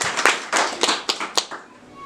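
A church congregation claps hands in a loose, uneven burst of sharp claps, close and loud, that thins out and fades toward the end.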